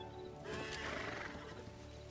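A horse in the video game Hytale lets out a loud, drawn-out whinny with hoof clip-clops mixed in, heard up close against a low game-world background.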